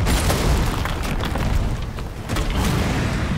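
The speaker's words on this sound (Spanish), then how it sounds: "Parece que le gusta las granadas incendiarias." Incendiary grenade blast in Resident Evil 3 Remake gameplay, a loud, dense burst of fiery roaring noise that fills the whole stretch with no clear pauses.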